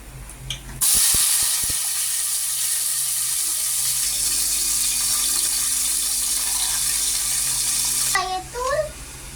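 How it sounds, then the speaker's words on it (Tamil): Tomatoes drop into a hot pan while rasam cooks, setting off a sudden loud sizzling hiss after a few quick clatters. The hiss holds steady for several seconds, and a voice is briefly heard near the end. "கெதறி விடலாம் வாங்க தக்காளி போட்டுக்கலாம்"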